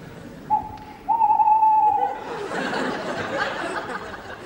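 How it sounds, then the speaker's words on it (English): An owl hoots on a dark night, with a short hoot followed by a longer, steady one, fairly close and clear. A burst of broad noise like laughter follows. "An owl."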